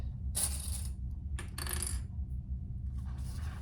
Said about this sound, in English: I dropped a clip, I think.